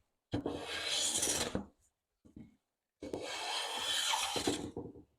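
A number 6 hand plane smooths old, dry wood over bandsaw marks, giving two long rasping strokes with a short scrape between them, close and clear with no voices.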